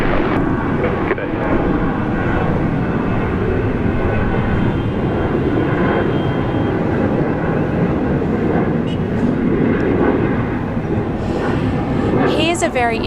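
An airliner lands on runway 34 left at Sydney International Airport, a steady broad jet roar that holds for the whole stretch, with faint voices in the background.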